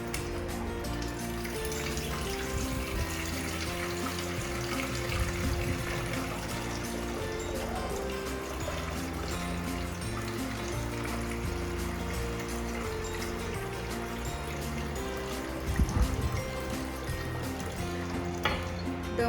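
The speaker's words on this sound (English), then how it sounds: "Now I have a pot, and then I'm going to fill it with some water." Tap water runs steadily into a pot for a long stretch, a continuous splashing trickle, fairly close, with a brief clatter near the end.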